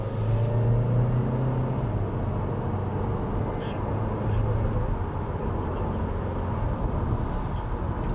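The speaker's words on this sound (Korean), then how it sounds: "지금 저희가 삼거리에서 좌회전을 하고 잠깐 뭐 풀가속까지는 아니지만 조금 속도를 붙여봤는데요" Renault SM6 facelift sedan turning left at a three-way junction and then accelerating, a steady low engine and road rumble heard from inside the cabin without a clear rise in pitch.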